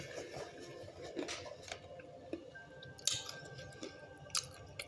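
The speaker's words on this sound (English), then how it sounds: "And them bacon bits, they good and crunchy." Crunchy bacon bits in a salad are chewed close to the microphone, giving soft, irregular crunching and squishy mouth sounds with scattered sharp crackles, faint and without talk.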